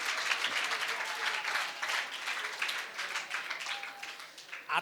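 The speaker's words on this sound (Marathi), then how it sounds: "तर त्यांच्यासाठीही जोरदार टाळ्या आपण वाजवल्या पाहिजेत" A seated audience at a felicitation event claps loudly and steadily, a dense crackle of many hands that swells and tapers a little near the end, with a few voices under it.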